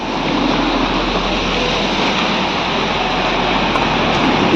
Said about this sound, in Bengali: এই সাইডে দেখুন একটা ভিউ সামনে সুন্দর ঝর্ণা বয়ে চলছে